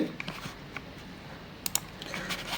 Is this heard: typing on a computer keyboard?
yes